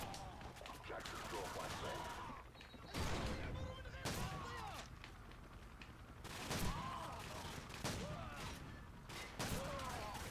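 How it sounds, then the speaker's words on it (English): Shotgun blasts in Call of Duty 4: Modern Warfare, several loud booming shots spaced a second or two apart amid game noise, with a voice speaking over them. "Let me pick up the shotgun."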